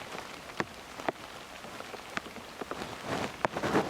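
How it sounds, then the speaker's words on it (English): Steady patter of rain falling on a surface, with scattered sharper drops and splashes standing out irregularly against a soft background hiss. "Sounds like rain."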